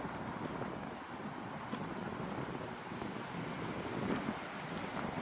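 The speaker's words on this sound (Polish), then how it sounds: "wieje od wschodu. Naprawdę jest nieprzyjemnie." Cold east wind gusts past the microphone in a continuous rushing roar, loud and close, with no voices.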